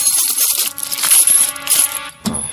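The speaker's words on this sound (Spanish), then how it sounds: "Ellos le ofrecieron 30 monedas de plata." Silver coins drop and clink in a loud metallic jingle with a brief gap and a final thud, heard alone with no talking, in a retelling of the thirty pieces of silver.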